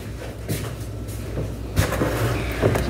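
A kitchen drawer slides and bumps shut, with a few soft knocks and a louder thud, close and unaccompanied by talk in a quiet room.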